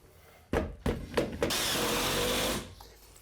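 A power drill drives a screw into a shim while a shower is being installed, starting with a few short, sharp bursts before settling into a steady, close whir of about a second that then cuts off.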